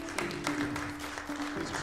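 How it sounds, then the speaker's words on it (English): Audience applause welcoming a panel of judges at an event, a steady wash of clapping from a crowd, moderately loud and continuous with a few sharper claps standing out. "Big round of applause, everybody"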